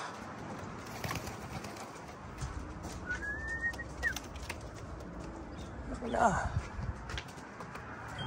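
Racing pigeons coo softly in a loft as they return from a 330 km Dunedin race. Low, gentle calls sit under someone talking, with a brief sharper clatter near the end.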